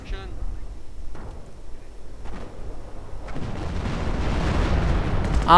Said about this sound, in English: And more artillery.